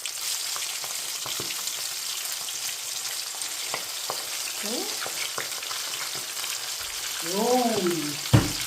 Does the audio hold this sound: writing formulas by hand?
no